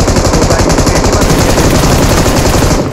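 Loud, close gunfire in the battle royale game BGMI, a dense rapid stream of automatic shots hammering continuously for about three seconds before tapering off at the end.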